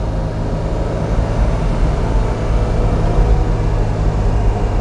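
A 1954 Alfa Romeo 1900C SS in unrestored original condition, its engine droning steadily while driving, a low, full rumble that swells slightly toward the end with no talk.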